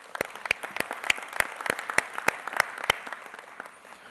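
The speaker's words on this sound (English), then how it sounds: "So I do want to specifically offer the opportunity for another round of applause to them." An audience at an official results-release ceremony claps, with crisp individual claps in a steady rhythm standing out over softer scattered clapping that thins toward the end.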